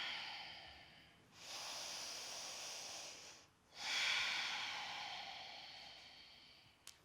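Deep breathing during a yoga bridge pose: two long, airy breaths, close and quiet, each swelling and fading over a few seconds with a short pause between, and no talking.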